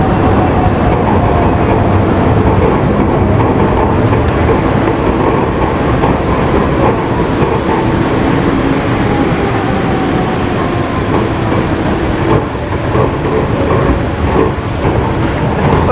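Steady, loud rumble of a Cairo monorail train heard from inside the carriage, with continuous wheel and motor noise throughout.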